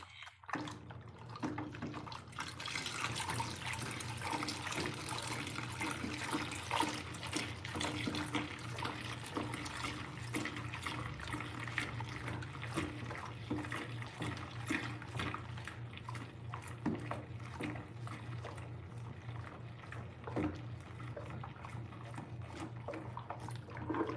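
Cold tap water, about 1.5 liters, pours steadily into a homemade coconut-scented laundry soap mixture, a continuous close splashing stream running the whole time with no talk over it.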